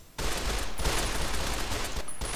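Sustained fully automatic fire from an M16-style assault rifle in a modded Fallout: New Vegas, starting abruptly and hammering loud and close for about two seconds before a brief pause.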